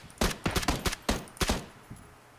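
Tommy gun fire in a first-person shooter match: several short, sharp bursts of automatic shots in quick succession, fairly close, with a final fainter pop trailing off, and no talk over them.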